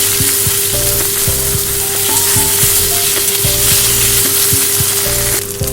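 Ginger paste and onion fry in a pan, making a loud, continuous sizzle that runs steadily under background music.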